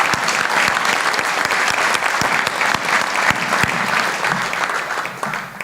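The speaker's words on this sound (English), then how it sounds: "Let's give another round of applause to all the neighborhood leaders and the awardees." Sustained applause from an indoor crowd at a community appreciation celebration honoring neighborhood leaders and volunteer awardees, dense steady clapping that carries evenly throughout and starts to thin out at the very end.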